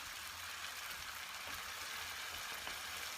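Onions and tomatoes frying together in a pan for a sardine kofta tomato sauce, making a steady, soft, hissing sizzle that continues without a break and with no speech.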